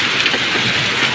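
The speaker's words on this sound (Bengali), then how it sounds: "এটাকে বলা হয় বৃষ্টি।" Heavy rain mixed with hailstones pours down steadily at home during an April hailstorm, a dense, continuous hiss with patter close by and no talk.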